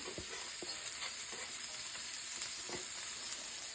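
Onions are thrown into a hot pan for Singapore chow mei fun and sizzle steadily, with a constant frying hiss and small crackles and clicks of stirring throughout. No one speaks.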